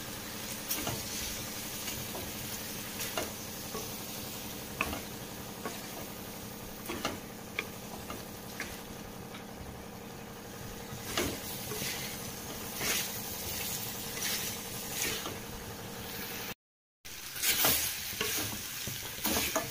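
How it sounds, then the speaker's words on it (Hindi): Boiled potatoes fried together with soybean chunks in a pan, a continuous sizzle broken by frequent clicking spoon strokes against the metal, with one brief dropout near the end and no talking. "अभी मैं आलू डाल दूंगी यहाँ पे, जो आलू उबाल के रखा था। इसको भी थोड़ा फ्राई कर लेंगे।"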